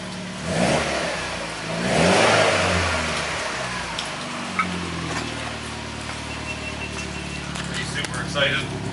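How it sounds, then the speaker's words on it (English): Mitsubishi Evo with a new exhaust fired up for the first time: the engine rises in a couple of loud revs, then settles into a rumbling idle, with people talking over it. "Starting up the Evo for the first time with the new exhaust."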